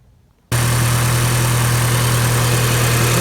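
A VW Jetta engine catches after a short silence and settles into a steady, loud idle with a low hum and constant mechanical whir, fitted with a newly replaced serpentine belt tensioner.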